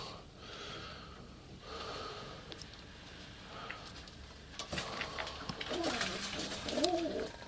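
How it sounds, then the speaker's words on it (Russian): Pigeons in winter in Barnaul cooing softly from close by, with low throaty coos building toward the end among light rustling and breathy snorts. "Вот у меня голуби там в Барнауле"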